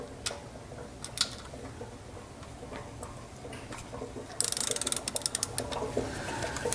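Ratchet loosening a bolt during an oil change on a BMW E92 M3, with soft clicking that turns into a fast, sharp run of ratchet ticks near the end.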